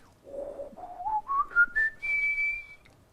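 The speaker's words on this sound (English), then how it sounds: "High register, kind of different, almost a little bit like whistling." A high-register airstream tone from a brass player rises step by step in short pitched notes, ending on a sustained whistle-like pitch, fairly quiet and alone.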